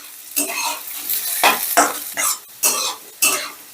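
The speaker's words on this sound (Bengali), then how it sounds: "ডাল আর আলুটা একদম প্রপারলি ভেজে নেব" Moong dal and potato frying in a pan over medium heat, stirred with a utensil that scrapes and clinks against the pan in short irregular bursts, with a soft sizzle underneath.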